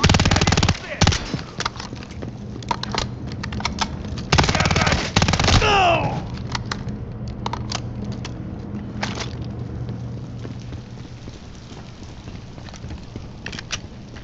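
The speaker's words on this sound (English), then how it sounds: "There's enemy fire!" Enemy machine gun fire in Call of Duty, loud bursts of automatic gunfire in the opening seconds, with scattered sharper shots continuing over a steady battlefield rumble for the rest of the stretch.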